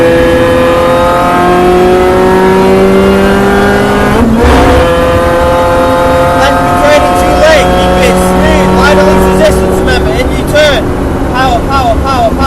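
Mini Challenge Clubsport race car on the Donington circuit, its engine loud and sustained at full power with rising and falling revs, while a driver's voice talks over it throughout.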